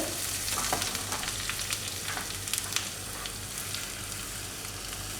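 Green chilies and grated ginger go into hot oil in a pan just off the flame, a steady close sizzle with scattered crackles and pops that are busiest early and settle into an even fry.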